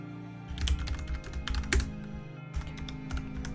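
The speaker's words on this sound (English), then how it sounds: "You can hear me typing" Close, busy clatter of a computer keyboard being typed on in quick bursts of keystrokes with a brief pause, loud and alone without any voices.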